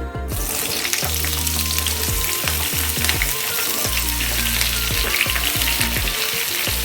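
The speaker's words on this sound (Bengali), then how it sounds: "এরপর কেটে রাখা ঝিঙেগুলো এর মধ্যে দিয়ে দিচ্ছি" Chopped ridge gourd dropped into hot tempered oil sizzles loudly and continuously, with repeated sharp scrapes and knocks of stirring in the pan, close up and without any talk.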